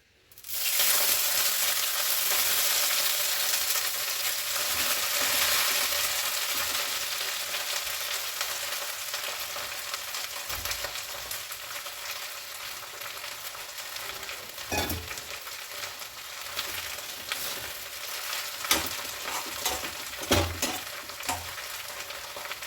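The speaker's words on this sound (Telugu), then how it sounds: "ఇప్పుడు ఇంకా కొంచెం ఆయిల్ వేద్దాము కొత్తిమీర వేసేసుకుందాం ఆయిల్లో" Coriander leaves sizzle and fry steadily in hot oil in a pan, a continuous loud crackling hiss with occasional stirring clinks and sharper pops.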